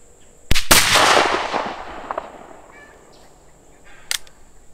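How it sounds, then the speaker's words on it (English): Muzzleloader rifle shot with a hang fire: a brief crack of the cap, then a split-second delay before the loud main blast that rings and fades outdoors, with a faint sharp knock later. "that was a bad hang fire and caused me to miss"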